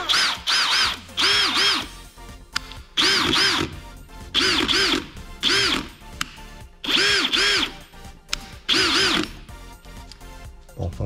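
A Parkside power drill drives screws in several bursts, each whirring up and winding down with rising and falling motor pitch. The bursts are loud and close, separated by short pauses and small clicks.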